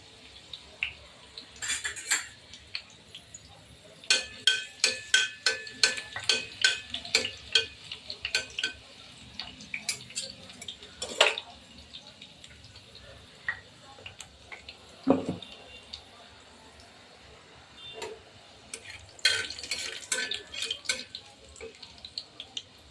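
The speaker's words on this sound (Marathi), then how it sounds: "आता ठेचलेल्या लसणाच्या दोन पाकळ्या घालते" Crushed garlic cloves go into hot oil in a wok, with a low sizzle beneath frequent clinks and scrapes of a metal spoon against the pan, in irregular bursts.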